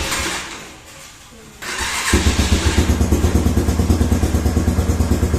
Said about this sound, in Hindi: कोल्ड स्टार्ट है, तो देखते हैं कैसा रिस्पांस देता है बाइक